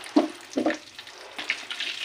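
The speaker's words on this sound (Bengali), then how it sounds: "অল্প তেলের মধ্যে আমি একটু তিল দিয়ে দিচ্ছি।" Sesame seeds fry in a little oil in a wok, giving short crackling bursts and spits close up that fade into a soft ongoing sizzle.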